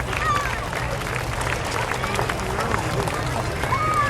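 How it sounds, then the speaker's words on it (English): A crowd outdoors at a Memorial Day parade applauds veterans, giving a steady wash of clapping under a voice speaking over the noise. "How about one more round of applause for our veterans?"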